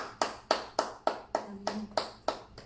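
A congregation claps to acclaim the Lord at a church service, with eight or nine crisp, evenly spaced claps in a steady rhythm. The sound is moderately close and there is no talking over it.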